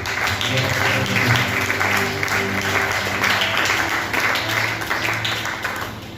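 A church congregation claps and cheers for the Lord Jesus during a French-language service, a loud, continuous round of applause over sustained musical tones, swelling and easing slightly near the end.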